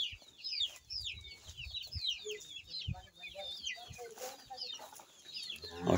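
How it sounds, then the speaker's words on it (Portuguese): Hens cluck and chatter in a coop on a rural farm, with soft, repeated clucks close by, bright bird chirps above them and a voice talking intermittently. "Olha o galinheiro Bruno"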